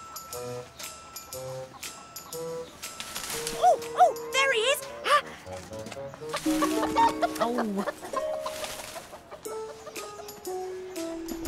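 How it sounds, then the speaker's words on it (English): Chickens in an animated cooking show cluck and squawk in lively bursts over playful background music, with a voice briefly exclaiming. "More chickens."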